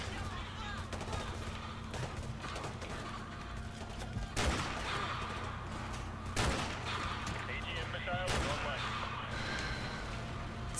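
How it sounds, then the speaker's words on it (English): Gunfire in the Modern Warfare 2 Remastered video game, with several sharp loud shots standing out over dense ongoing battle noise, while people talk throughout. "That's a powerful shot."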